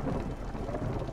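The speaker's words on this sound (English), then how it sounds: "The storm approaches" Low rumbling thunder with a steady wash of rain in the Against the Storm game, a dense continuous roar across the short stretch without clear peaks.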